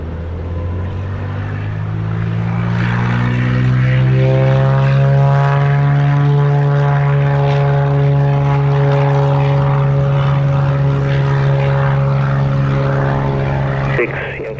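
A propeller airplane takes off at Montego Bay airport in Jamaica, its engine drone loud and close, rising as the tone climbs and then holding steady and strong throughout.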